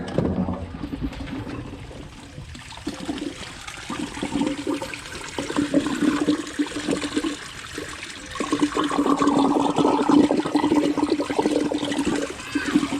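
New pond pump tubing carrying a steady rush of running water, continuous and fairly close, swelling louder in the second half of the clip.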